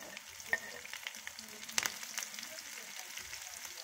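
Garlic, chili and onion frying in a pan, a steady close sizzle with occasional stirring clatter, fairly quiet throughout.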